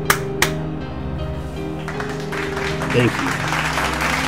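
Soft, steady crowd applause in the wrestling game Hardtime, with a couple of sharp taps at the start and a brief spoken line partway through.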